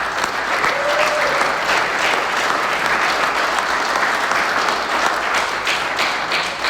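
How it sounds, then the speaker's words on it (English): Audience applause at a golf classic memorial dinner ceremony, a dense, steady wash of clapping from a large room that holds at full strength throughout, with no talk over it. "We'd like to give you a round of applause as well"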